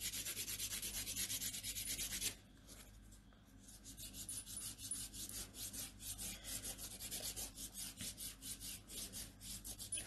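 A nail file rasps across a gel (polygel) nail during a 3D French manicure, a steady close scratching that pauses briefly, then returns as rapid, rhythmic back-and-forth strokes.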